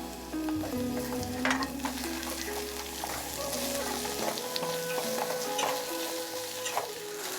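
Chunjang paste, powdered soup granules, olive oil and cooking oil stir-frying in a pan for jjajang ramen: a continuous close sizzle with scraping stirring strokes throughout, steady and fairly loud.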